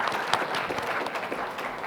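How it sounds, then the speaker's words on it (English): Audience applause at an invited talk session of a networking camp, a brief burst of dense clapping from a seated crowd welcoming a speaker. "please welcome him with a big applause"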